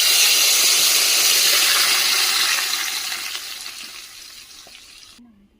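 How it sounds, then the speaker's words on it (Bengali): Boiled dal is poured into a hot tempering of bay leaf, dried chilli and whole mustard seeds, setting off a loud, rushing sizzle and splatter that gradually dies down over a few seconds. "এখন আমি এই যে সেদ্ধ করে রাখা ডালটা দিয়ে দেবো।"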